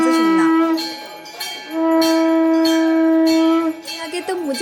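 A conch shell is blown during a Shiva aarti for Mahashivratri, giving loud, sustained droning blasts with a steady pitch that wavers and bends at the end, heard close and without voices.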